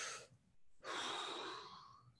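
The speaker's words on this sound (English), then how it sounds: "Take a deep breath." A single deep breath, a short inhale followed after a pause by a long, soft, close exhale, heard alone in a quiet room.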